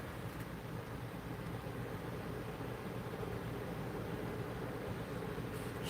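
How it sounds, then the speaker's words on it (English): A steady, low whooshing hum of an electric fan runs continuously at a soft, even level with no other sounds. "What you're hearing is a fan"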